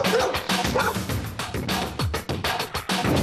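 A playful young dog barks and yips in quick, loud, close bursts, with a few whimpering notes mixed in and faint talk underneath.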